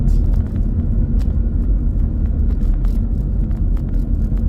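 A car drives along a road in the Cayman Islands at sunset, a steady low engine and tyre rumble with no breaks.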